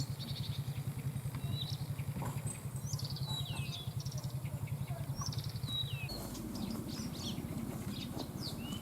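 A new motorcycle being test-ridden in a village makes a faint, distant engine drone that pulses steadily under scattered birdsong and chirps.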